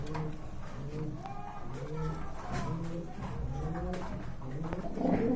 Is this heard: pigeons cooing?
yes